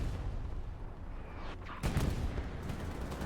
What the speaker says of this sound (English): I think that was entirely artillery there